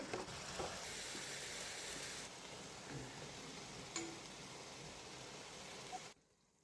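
Ingredients for an Andhra-style onion-layered fish curry fry in hot oil with a steady, even sizzling hiss at moderate distance, dropping slightly midway and then cutting off abruptly near the end.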